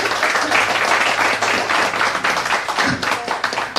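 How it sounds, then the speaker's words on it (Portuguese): A studio audience at a Brazilian variety show claps steadily and densely, filling the room with sustained applause close up. "Bravo! Bravo! Aplausos,"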